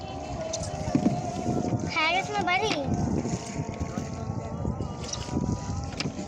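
A small wooden boat moves along a river on an afternoon trip, its low steady rumble and water wash running continuously while voices chatter and a child calls out briefly.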